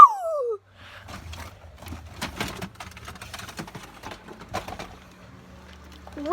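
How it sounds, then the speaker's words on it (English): A pigeon or dove coos in short soft calls, faint and intermittent under clicking and tapping sounds, with a sliding electronic tone at the start and end. "Bird."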